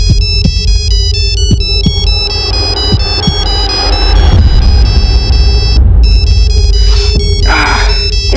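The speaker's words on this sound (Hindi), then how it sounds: "ये सुबह सुबह किसका फोन है?" A telephone rings loudly with a repeating electronic ringtone melody over a low, throbbing rumble.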